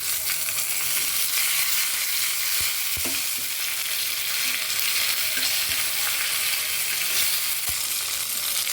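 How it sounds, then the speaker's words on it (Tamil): Dried red chillies and curry leaves crackle in hot oil for a village-style bottle gourd curry tempering, a steady dense sizzle with a few sharper pops, close and continuous with no talking. "தாளிப்பு வறுபட்டுச்சுங்க"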